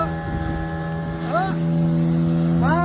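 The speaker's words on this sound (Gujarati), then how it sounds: "આ બોટમાં બેહી ગયા છે" A steady motorboat engine drones throughout, with a low hum and water noise, while tonal sweeps rise faintly over it.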